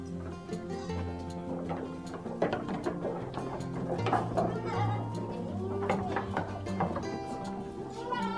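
Goats on a goat farm bleat in scattered, overlapping calls over a busy background with clanking, mechanical rattles and a person talking.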